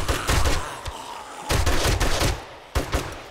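Rapid bursts of heavy gunfire with high-powered ammo in the 7 Days to Die video game, three loud clusters of booming shots with short gaps between, up close.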